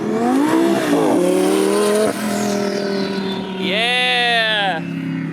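A twin-turbo Lamborghini revs and accelerates hard, its engine pitch climbing through gear changes close by, with a high whining surge near the end, while people talk and cheer over it.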